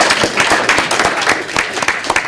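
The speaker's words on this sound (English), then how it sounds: "let's give a round of applause for Adam's handwriting." Audience applause breaking out in a room, a short burst of dense clapping of moderate loudness that carries on evenly to the end, with some talk mixed in.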